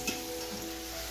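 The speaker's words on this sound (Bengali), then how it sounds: "আলু ভাজা চলছে" Potatoes frying in a pan for a Bengali birthday meal, giving a steady, close hiss of sizzling oil that carries on unbroken through the short stretch.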